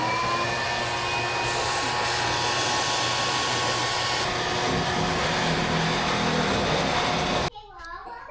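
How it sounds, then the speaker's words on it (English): A vacuum sucks mud out of a truck axle tube plugged at the back end, making a loud, steady whooshing roar that runs for about seven seconds and then cuts off abruptly, leaving quieter background sounds. "We're going to try plugging the backside and vacuuming it out."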